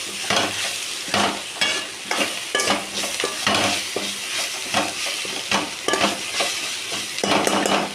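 Chutney tempering stirred and sautéed in a pan: a steady sizzle broken by repeated, rhythmic scraping strokes of a spoon, close and fairly loud, with no talking.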